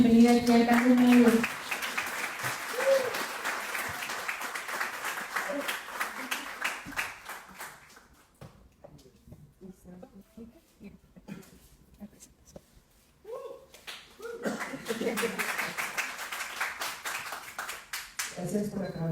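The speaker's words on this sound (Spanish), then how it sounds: "Vamos a darle un aplauso para darle una bienvenida aquí al Caro Mayer" An audience claps to welcome a speaker at a creative-professionals event, a full burst of applause that thins into near quiet before clapping and voices rise again later.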